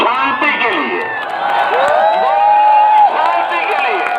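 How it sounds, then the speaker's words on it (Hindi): A large audience at a prime minister's political speech cheers loudly and steadily, with many overlapping shouts and whoops forming a dense, continuous roar of voices. "मैं चाहता हूं कि आप खड़े होकर एक बार फिर ताली बजाएं, मेरे लिए नहीं, शांति के लिए"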